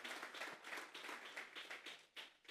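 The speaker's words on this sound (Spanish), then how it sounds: "Vamos a darle esa ofrenda de palmas a Dios en esta mañana." A church congregation clapping together during a morning service, a quiet run of rhythmic, evenly spaced bursts of handclaps.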